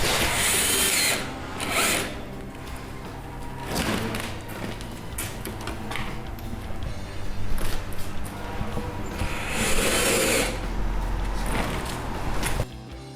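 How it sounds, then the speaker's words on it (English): Big electric drill tying a concrete sculpture mould, running in several loud, close bursts with thumps and handling knocks between them, and little talk. "they're just tying the mould with a big electric drill"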